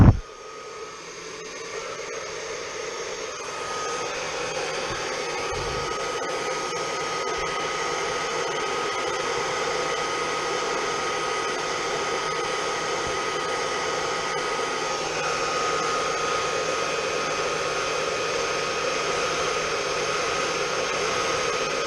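A heat gun warming a phone to soften it during a repair gives a loud, steady blowing roar that starts suddenly and holds unchanged for over twenty seconds, close by and without speech.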